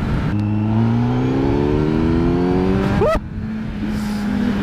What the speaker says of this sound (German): wie der Sound sich verändert, wenn man Vollgas gibt, ist ja krass